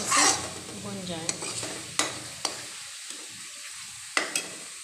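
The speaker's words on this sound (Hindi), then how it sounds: "जैसा कि आप सब देख सकते हैं कि हमारे मसाले भून रहे हैं" Spices roasting in a generous amount of oil for shahi soyabean, a sizzling crackle broken by sharp clicks and scrapes of a spoon against the pan, close, with a brief louder burst at the start and no speech.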